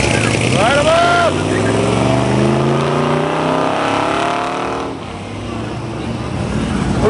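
A supercharged 707-horsepower Hellcat revs loudly at a muscle car show, its engine roaring and rising in pitch, then easing off, with crowd noise and voices mixed underneath.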